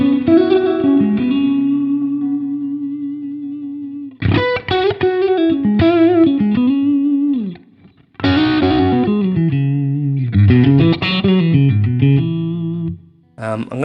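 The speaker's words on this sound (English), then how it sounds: "We could even make this spring reverb to be more realistic, have it in mono." A blues electric guitar plays sustained notes and bends through a mono spring reverb, with a slightly overdriven tone, phrases separated by short pauses and ringing decay.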